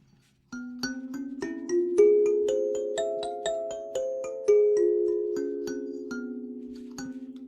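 Two kalimbas play together in stereo, one on each side. Rapid plucked metal tines ring out in a flowing melody with long overlapping sustain, close and clear, with no voices.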